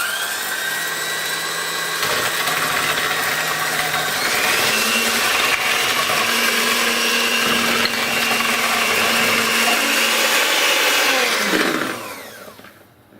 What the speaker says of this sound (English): we need to mix this with the mixer until it's nice and frothy